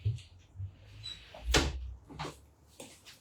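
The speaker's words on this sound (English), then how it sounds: "I'm going to shut this wee door a second." A small wooden door swings shut in a house with a single firm thud, followed by a couple of softer knocks and rattles, close and fairly quiet.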